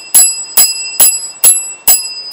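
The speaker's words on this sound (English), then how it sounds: "Okay, ring the bell for the entire time." A small bell rings five times in a steady, evenly spaced rhythm, each bright metallic ding sharp and close, sounding alone.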